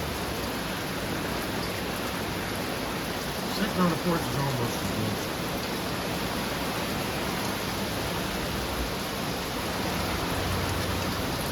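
Heavy storm rain pours steadily as a dense, even hiss heard from a porch, close and continuous throughout, with someone speaking briefly over it.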